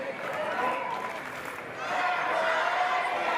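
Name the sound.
crowd cheering at a combat sports event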